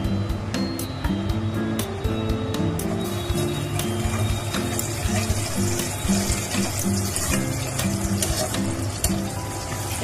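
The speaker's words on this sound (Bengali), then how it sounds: "সরষের তেলে দিয়ে দেবো একটা তেজপাতা, শুকনো লঙ্কা আর গোটা জিরে।" Bay leaf, dry chilli and whole cumin frying in hot mustard oil in a kadai, a loud continuous sizzle and spatter close by, with a steady tonal hum underneath and no speech.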